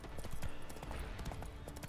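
A ridden horse's hooves clip-clop steadily in The Witcher 3, quiet and even in rhythm over a brief stretch of travel.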